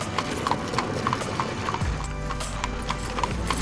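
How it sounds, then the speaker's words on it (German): Horse-drawn royal carriage on a London street: brisk, even clip-clop of hooves, loud and close, joined by a low rumble of rolling wheels partway through. "Was für eine schöne Kutsche."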